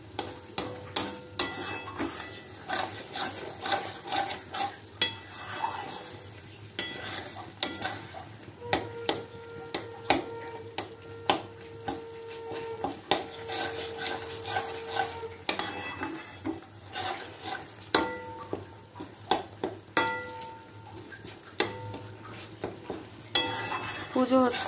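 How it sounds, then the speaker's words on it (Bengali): Spices are stir-fried in rendered mutton fat: a close, continuous sizzle broken by frequent scraping and clattering strokes of a spoon against the pan. A sustained, horn-like tone sounds faintly in the background for several seconds midway. "চর্বিটা দিয়ে আগে কষালে মশলাটা, এর কিন্তু একটা আলাদা স্বাদ হয়"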